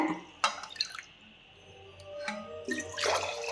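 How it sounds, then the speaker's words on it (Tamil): Water is poured from a cup into a pot for millet pongal with rice and lentils, splashing in short close bursts with brief pauses between pours, and no talking. "தண்ணி ஊற்றிக்கிறேன்"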